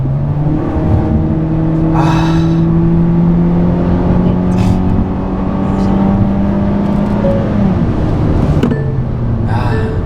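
A Hyundai Sonata DN8 with a 2.0 naturally aspirated engine and CVT pulls at full throttle, a steady loud engine drone with rising tones, heard from inside with some brief noise bursts and no talk.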